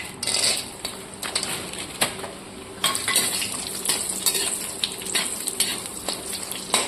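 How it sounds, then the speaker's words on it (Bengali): Bori, small sun-dried lentil dumplings, fry in hot oil in a kadai with a continuous close sizzle, broken by repeated sharp clinks of a metal spoon stirring against the pan. "এর মধ্যে প্রথমে আমি কিছুটা বড়ি ভেজে নিচ্ছি।"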